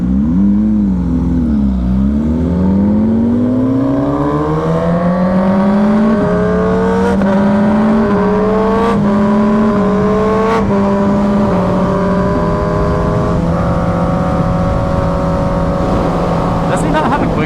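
A GSXR 1000 motorcycle fitted with an SC Project exhaust roars loudly and close, its engine note climbing through several gear shifts with clear breaks between them as it accelerates.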